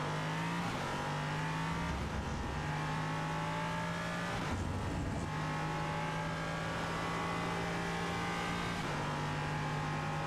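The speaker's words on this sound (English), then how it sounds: "Scary just hearing your engine." An LMP3 race car engine at Jerez circuit drones loud and continuous, holding steady revs with a few quick dips and shifts, heard close up from on board with no talking.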